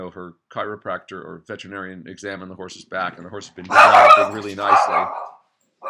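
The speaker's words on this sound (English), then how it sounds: "Excuse my dogs barking in the background there." Dogs barking in the background at a horse-riding session, a burst of barks near the end partly under ongoing talk about a horse's back and training.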